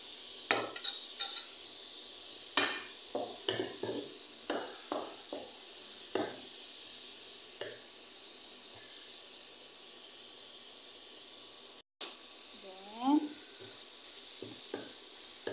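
Chopped ginger sizzles steadily in a hot pan as adobong chicken liver with eggplant cooks, with repeated scraping stirs and clinks of a utensil, then a lull and a few more close taps near the end.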